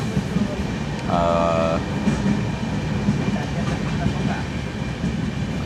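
A passenger train running on the Secunderabad to Rajahmundry route via Chityal and Nalgonda, heard from inside the carriage as a steady, loud rumble with faint clatter and a brief tonal squeal or horn-like note early on.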